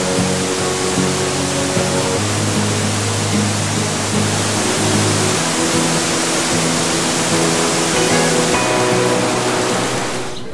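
The Nam Kaen waterfall pours in a loud, continuous broadband rush of falling water that fills the whole stretch without a break, with faint tonal sounds faintly audible beneath it.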